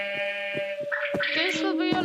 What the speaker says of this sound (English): The sheep puffs are from the Addon.